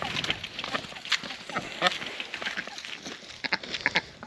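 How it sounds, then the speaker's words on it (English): Harsh, agitated duck quacks in scattered bursts, loud and close, with a few sharper honks near the end. "enough with the angry duck noises"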